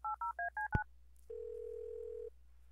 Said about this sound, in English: I'm gonna use the phone. I'm gonna try to call the Air Force Base again